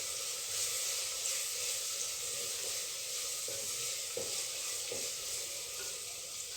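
Garlic ginger paste frying in a pan for a fig vegetable curry, a steady close sizzle with a few soft stirring scrapes and no talk.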